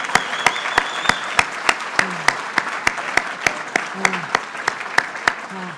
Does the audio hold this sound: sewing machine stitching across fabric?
no